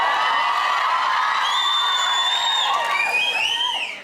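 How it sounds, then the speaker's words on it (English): Studio audience of a British talk show cheering and whooping for Bradley Cooper, loud sustained screams and shrieks from many women, holding steady before fading slightly at the end. "are they cheering for me"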